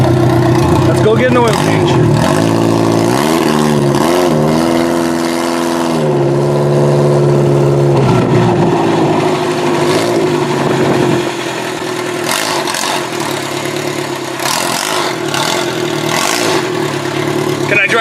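A demolition derby car's engine idles and revs as the car backs off a trailer, with loud, rough rumbling that rises and falls while people talk over it.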